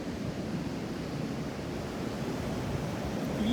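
Ocean surf rolling and breaking at a beach, a steady broad wash of waves with some wind noise on the microphone, continuous and fairly close throughout.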